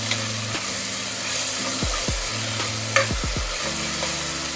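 Tomato and ginger-garlic paste frying in a pan: a steady, loud sizzle runs throughout, broken by several scraping stirs and a sharp clink of a utensil near the middle.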